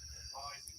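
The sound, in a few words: cicadas buzzing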